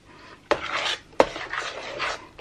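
Maja Blanca, a Filipino coconut corn pudding, is scooped from a pot into a pan, giving two sharp metallic clanks of utensil on cookware followed by soft scraping and sliding of the thick mixture.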